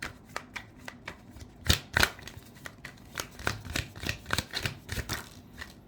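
Tarot cards shuffled and handled, with a run of quick, crisp riffling slaps and flicks at close range, some louder snaps mixed with softer ones, and no voices.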